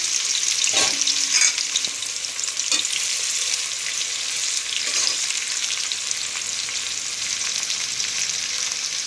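Four onions fry in hot oil for a soya chaap veg biryani, giving a loud, steady sizzle with occasional stirring scrapes and no talking.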